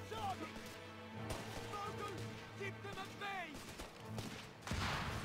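Grenade blast and scattered rifle fire in Company of Heroes 3, a rapid crackle of distant shots and a sharper burst near the end, under someone talking over the game.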